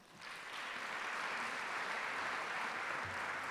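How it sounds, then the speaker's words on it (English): An audience at a college athletics hall of fame induction ceremony gives a round of applause, a soft, even wash of clapping that starts quickly and holds steady. "we can give her another round of applause"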